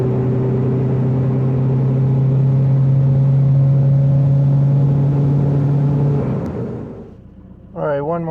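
A tuned VW MK5 TDI with a GTB2265 turbo and PD150 injectors pulls hard under heavy acceleration, a loud steady engine drone filling the cabin before fading out, followed by a brief burst of speech.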